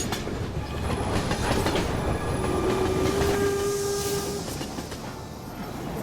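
A moving train in the WWII-era film Generation War gives a steady, dense rumble with wheel clatter and faint high metallic squeals. One drawn-out tone sounds midway, loud and continuous throughout, with no talk.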